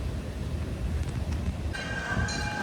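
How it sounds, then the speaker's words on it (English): The Cannonball train at Kansas City Zoo rumbles past at moderate distance, a continuous rolling roar with a faint tonal whine joining toward the end. "we hear the cannonball train towards our left"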